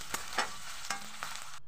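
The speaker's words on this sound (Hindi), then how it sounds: "इसमें हम जो मसाले पीस कर रखे थे उसको इसमें ऐड कर देंगे।" Ground spice paste is stirred into browned onions frying in a pan, giving a steady sizzle with several distinct scraping strokes of the spoon spaced through the clip, the sizzle then stopping abruptly at the end.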